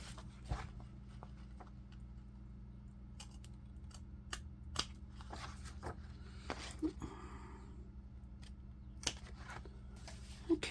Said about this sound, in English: Let's trim this off right at the end of the page.